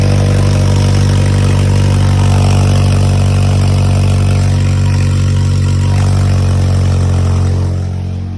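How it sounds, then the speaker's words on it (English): Engine of an Acura TSX idling with a small exhaust leak, a loud, steady, close low rumble that holds even throughout and tapers slightly at the end, with no talking. "We got a little bit of exhaust leak."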